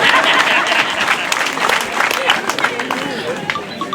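A school audience claps loudly and steadily, with crowd voices and cheering mixed into the applause as it carries on.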